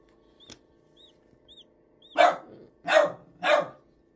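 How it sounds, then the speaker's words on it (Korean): Dog barks three times in a row, loud and close, after a few faint high chirps from chicks; no talking. "걔 짖는 소리가 이상하네요."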